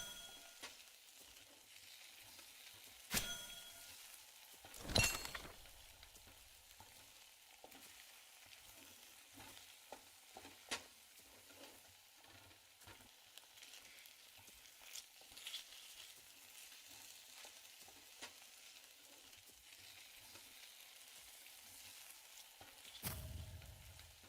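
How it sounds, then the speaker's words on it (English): A steady, quiet sizzle like food frying hisses throughout a video game scene (Bitcraft), with occasional faint clinks and a couple of louder bursts; no one speaks. "What is that sizzling sound?"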